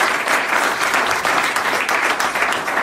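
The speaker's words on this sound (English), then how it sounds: "give him a round of applause" Audience applause at a gathering, steady loud clapping from a crowd that fills the whole stretch without letup.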